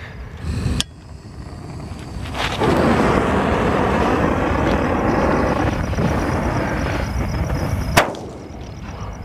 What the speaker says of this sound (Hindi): जलाते हैं कोक के बुलेट बम को मिनी बुलेट बम है देखते हैं किस तरह की परफॉर्मेंस रहती है